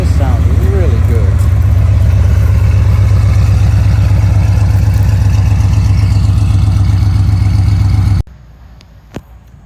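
A Ram 5.7 V8 with a Stainless Works header exhaust rumbles loud and close with a deep, steady, pulsing idle, then cuts off abruptly near the end, leaving a quiet outdoor background.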